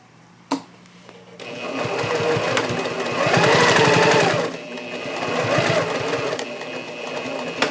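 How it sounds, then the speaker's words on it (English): A sewing machine with a 1/4 inch foot stitches binding onto a quilt, running in a steady close mechanical chatter that picks up speed and continues for several seconds after a brief click at the start. "just start sewing around and putting my binding on"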